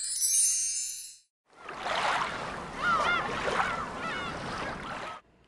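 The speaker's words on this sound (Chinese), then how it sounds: "蓝蓝的大海上飞来了一只小海鸥" A seaside sound effect for a children's audiobook: gull-like cries ring out repeatedly over a broad wash of sea and waves, preceded by a short bright tone and a brief gap.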